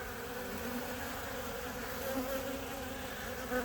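Honey bees buzz steadily close by from a ball of bees on the ground, a continuous droning hum with slight wavering pitch and no other sounds.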